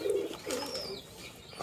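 Australian doves coo softly in low, hollow bursts, two close together near the start. A quiet, steady background hum runs beneath.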